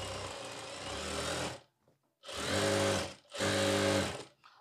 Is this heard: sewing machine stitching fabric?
yes